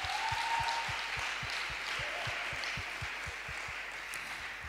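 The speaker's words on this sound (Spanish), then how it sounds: "Dale ese aplauso al Señor." Church congregation applauding, a steady wash of clapping held at an even level throughout, with a regular low thumping pulse beneath it and a brief tone early on.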